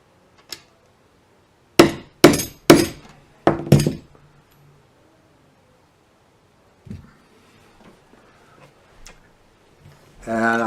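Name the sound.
hammer tapping a socket to seat a banjo tuning peg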